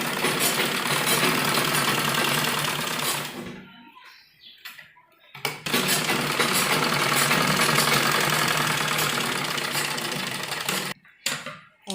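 A sewing machine stitches umbrella frock fabric in long, loud, continuous runs of dense mechanical whirring. It stops briefly twice, leaving near silence with a few small clicks.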